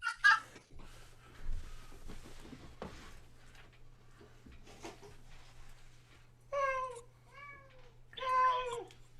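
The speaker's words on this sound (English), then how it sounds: "I heard a cat meow" A cat gives a few short, rising meows toward the end, fairly close, after quiet moments with faint background noise and a low steady hum.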